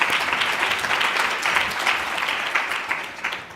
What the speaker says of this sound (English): another round of applause for Regina